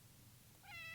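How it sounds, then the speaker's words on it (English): A cat in the survival game 60 Seconds! Reatomized gives a single short, clear meow near the end, rising out of a quiet low background hum. "And a cat!"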